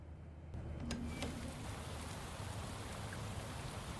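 Steady rain pours across a night street in the detective game Shadows of Doubt, a dense, even hiss of drops on surfaces that starts abruptly and holds at constant loudness.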